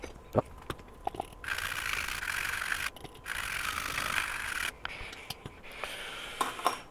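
Brisk toothbrush bristle scrubbing against a Samsung TV circuit board in several bursts, close up, with a few sharp clicks and taps between strokes.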